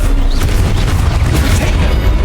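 Spell explosions in the video game Hogwarts Legacy, a dense, loud rumbling boom with low-end roar sustained through the moment.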